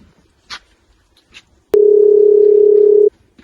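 A single steady electronic telephone tone sounds for just over a second, loud and clean, after a few faint background noises.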